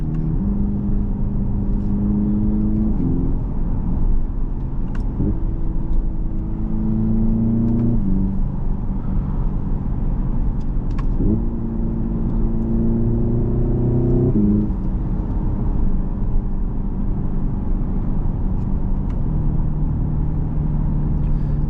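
A Hyundai Ioniq 5 N electric car accelerates hard through simulated gear changes, its synthetic engine note rising and stepping repeatedly in a loud, continuous cabin drone with no talking.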